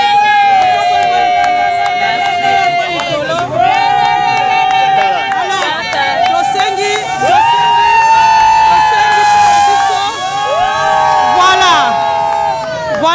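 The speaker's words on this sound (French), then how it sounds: "Est-ce qu'on peut applaudir pour les seigneurs?" Festive crowd at the opening of a village-themed venue in Bandalungwa, cheering and shouting loudly and continuously, with whoops and excited voices over dense babble, swelling in waves throughout.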